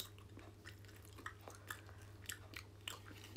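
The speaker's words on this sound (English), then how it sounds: "Oh, this is gum. Is it chewing gum?" Chewing gum, a Japanese candy, being chewed close up, with soft wet smacks and small crunchy bites repeating irregularly over a steady low hum, no talking.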